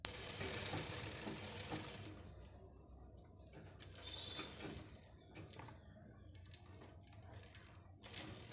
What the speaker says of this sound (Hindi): अब हम इसके चारों ओर ही सिलाई लगाएंगे।